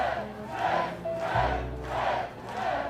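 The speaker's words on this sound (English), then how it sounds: "Chant?" A crowd chant effect from a soundboard swells in repeated rhythmic waves, about four loud pulses of many voices shouting together, steady and fairly near with no separate speech.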